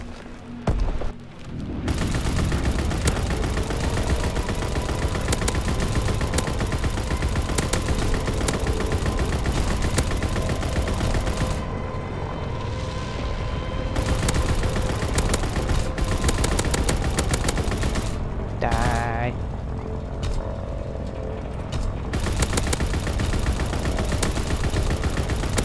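Sustained, loud machine-gun fire from a WW2 ball turret in a video game, near-continuous bursts of rapid shots with short pauses around 1, 12 and 19 seconds.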